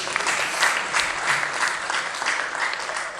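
A church congregation gives a round of applause at a service. Steady, fairly loud clapping from a crowd holds a dense wash throughout with slight swells.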